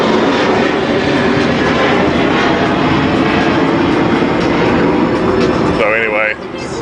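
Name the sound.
airplane flying overhead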